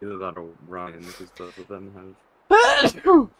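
A single sharp sneeze bursts out near the end, loud and close, after a stretch of casual talk during a Boxing Day livestream.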